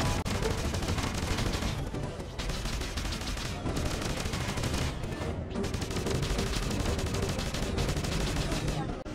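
Chain gun in the space game Freelancer Discovery firing in long rapid bursts, loud and dense, with short gaps between bursts and a voice faintly underneath.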